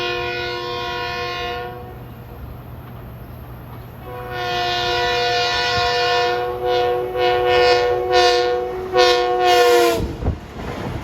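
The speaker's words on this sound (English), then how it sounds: "Here comes train 1663, Huntington Grand Central, with the Flying Yankee. He's had M9s for quite a while." An LIRR M9 commuter train, number 1663 bound for Huntington, arrives at Forest Hills, sounding a loud multi-tone horn in several blasts, from long sustained tones to short bursts, over rumbling wheels and a low hum, without talk.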